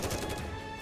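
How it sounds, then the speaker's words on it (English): A brief, dense burst of rapid automatic gunfire, a barrage of bullets in the game NIKKE, packed into under a second. "Mori fires a barrage of bullets at Gluttony, batters body."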